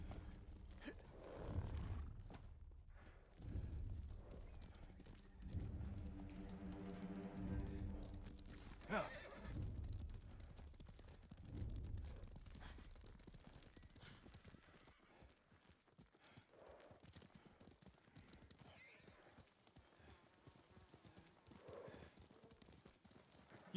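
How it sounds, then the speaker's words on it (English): Horses whinny loudly several times over a rumble of galloping hooves in the video game Ghost of Tsushima, then the hoofbeats fade into a busy background of movement and clatter. "we can definitely ride our horses here"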